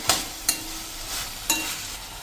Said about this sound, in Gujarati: આપણે સેજ વચ્ચે એક વખત આ રીતે ચલાવતા રહેશું એટલે ઇવનલી સરસ આપણા તુરિયા કૂક થઈ જાય